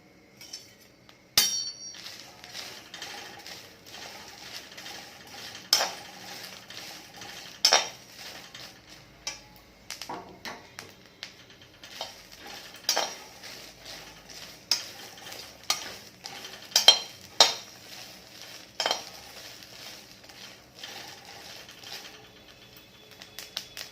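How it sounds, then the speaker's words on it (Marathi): Green chillies roasting in a pan over a high gas flame, a low sizzle under repeated sharp clinks and scrapes of a spoon or spatula against the pan, irregular and close. "मिरच्या भाजून घ्यायच्या गॅस फास्ट केला"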